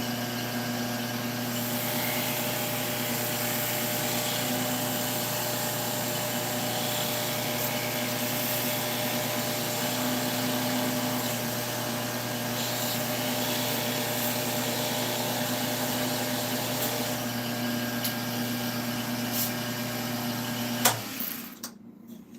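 Turned wood spinning on a lathe and burnished with a handful of wood shavings, a steady motor hum with soft continuous rubbing, close and even, cutting off abruptly near the end.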